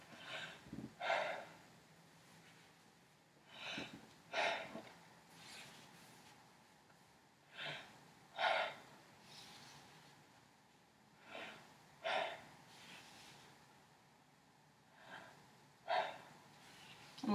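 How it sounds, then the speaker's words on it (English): Deep breaths taken during a physical assessment, a series of about eight audible inhale-exhale cycles at a slow regular rhythm, close and fairly quiet, with no talk. "Go ahead and take a deep breath."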